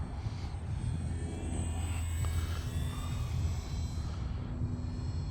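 An E-flite Valiant radio-controlled model airplane drones overhead at quarter to half throttle, its engine whine holding steady and fairly near, then easing slightly as it passes.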